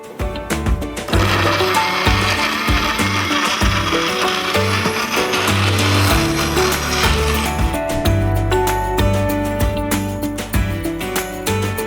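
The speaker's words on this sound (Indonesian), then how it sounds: "Selanjutnya langsung kita blender aja ya Cindy." A blender whirs through a banana strawberry smoothie, a loud, steady motor drone with rattling and clattering that starts abruptly, runs for several seconds, then eases off toward the end.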